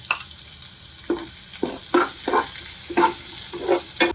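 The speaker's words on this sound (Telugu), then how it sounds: "ఇప్పుడు ఉల్లిపాయ ముక్కలు వేయించుకుందాం" Onion pieces fry in a hot tempering of mustard seeds and cumin for a curry leaf chutney, a loud close sizzle broken by repeated stirring scrapes at an uneven rhythm, with no voices.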